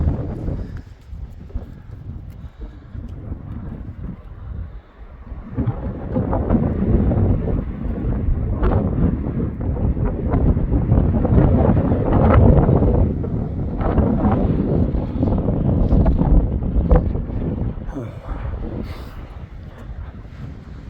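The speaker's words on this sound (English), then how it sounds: "The wind's blowing up here." Wind buffeting the microphone on a mountaintop village, a loud, gusty low roar that swells and eases over the whole stretch, rising strongest midway.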